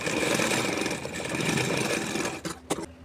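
A sewing machine runs steadily, stitching a collar onto a suit, in a close continuous whir that stops abruptly near the end with a couple of brief clicks.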